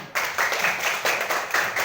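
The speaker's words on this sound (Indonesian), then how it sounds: "Nah, kita beri tepuk tangan." A class of fourth graders at a Catholic elementary school claps together in quick, steady bursts, filling the room with loud, busy applause that lasts under two seconds.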